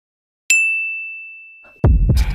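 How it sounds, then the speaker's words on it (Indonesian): An office lift gives a single clear electronic ding that rings on and slowly fades, followed after a pause by the rumble and clatter of the doors opening nearby. "kedengeran suara lift terbuka."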